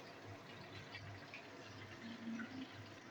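Panch phoron (five-spice) and dried red chillies frying in hot oil give a soft, steady sizzling hiss with faint crackles, close by but quiet.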